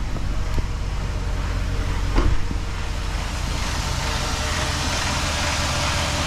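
Jeep Grand Cherokee WJ 4.7 engine idling with power steering low on fluid, a steady low rumble heard up close with a faint thin whine over it and a brief knock partway through.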